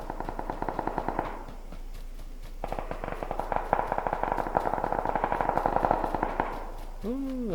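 Rapid automatic gunfire in the battle royale game PUBG, dense repeated bursts with a brief pause, loud and echoing, followed by a short swooping electronic tone.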